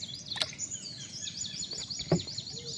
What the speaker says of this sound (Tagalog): mga gamaw tawagin dito sa amin yung mga wild duck mga kabraso yung mga lumulutang lutang yan yung mga ibon